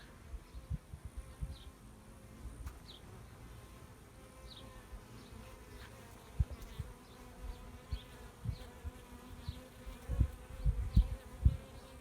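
Honey bees buzz around an open beehive during an inspection, a low continuous drone with individual insects passing close now and then, plus soft knocks and handling bumps that grow louder toward the end.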